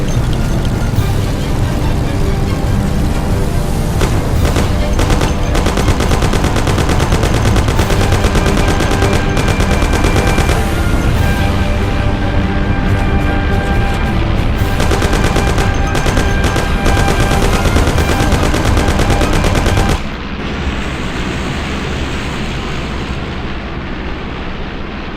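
Intense, continuous machine gun fire during a Mafia video game shootout, dense rapid bursts that dominate for about twenty seconds before dropping to a quieter, muffled rumble near the end.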